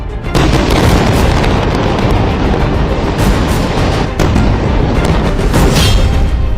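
Explosions from Israeli bombardment in Gaza: a continuous, loud rumbling wall of blasts and booming noise that barely lets up, with a sharp break near the middle before the heavy roar resumes.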